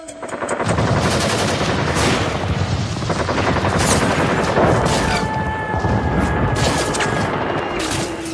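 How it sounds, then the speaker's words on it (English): Heavy gunfire with rockets and cannon fire striking a ship, loud dense bursts and rapid machine-gun rattling with booms throughout, a continuous barrage without talk. "They drop napalm and strafe its decks with rockets, cannon fire, and armor-piercing rounds"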